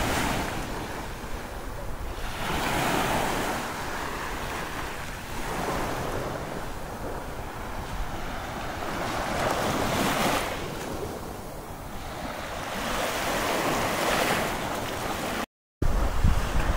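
Waves washing onto the seashore at San Juan, Balayan, Batangas, a continuous roaring surf with swelling and receding surges, mixed with wind buffeting the microphone, and no talking.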